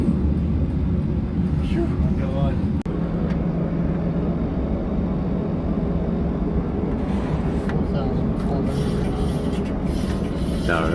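Airliner engines at takeoff thrust give a steady, loud, broad roar, heard from inside the aircraft, with people talking over it.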